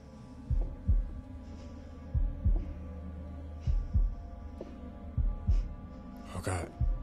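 A heartbeat from the horror game The Dark Pictures Anthology: The Devil in Me thumps in steady double beats, about one pair per second and a half, low and heavy over a droning hum, followed by a brief breathy gasp near the end.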